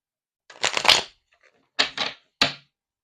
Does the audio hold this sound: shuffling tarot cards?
yes